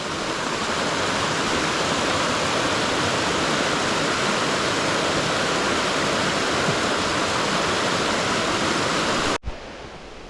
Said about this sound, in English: I love these New Hampshire rivers and streams.